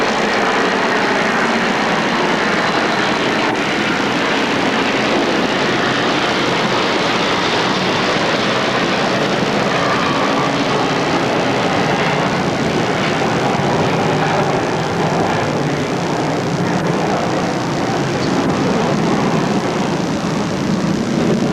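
A jet rises out of LaGuardia and passes over the US Open tennis stadium, giving a loud, broad roar that holds steady for the whole stretch and covers the crowd.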